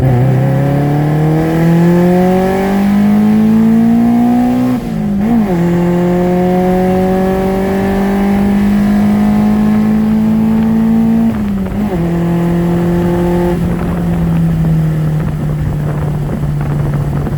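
A Honda CRX with a D16Z6 engine on a ZC block, naturally aspirated, accelerates hard under full throttle. A loud, rising engine whine climbs steadily, breaks briefly at two gear shifts and climbs again, with wind noise and no talking.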